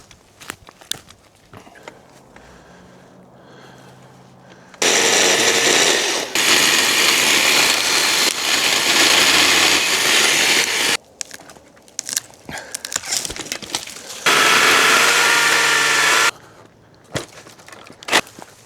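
Bursts of loud rasping pole-saw cutting through branches break quiet outdoor stretches, each lasting several seconds, with rustling and crackling in between.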